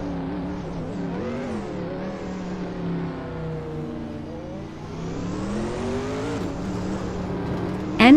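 Race cars on a track, including a 1990 Mercedes-Benz C11, their engines rising and falling in pitch as they accelerate and pass, a continuous layered roar ending in a sharp burst.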